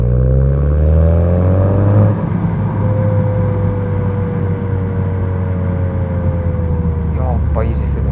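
A Honda Civic FK7 with a manual gearbox pulls away in second gear, its engine note climbing loudly for about two seconds before settling into a steady, sustained drone with continuous road and cabin rumble.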